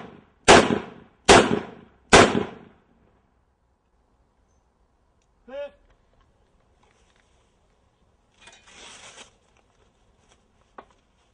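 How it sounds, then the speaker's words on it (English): A .357 Magnum revolver fires three loud, sharp shots in quick succession at a bulletproof vest, followed by quieter clinks and rustling and then near silence. "Now, the shooting continues. A 357 Magnum revolver,"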